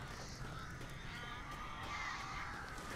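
Crows cawing in the horror video game Alan Wake, harsh repeated caws layered over a dense, steady ambient wash that fills the whole stretch.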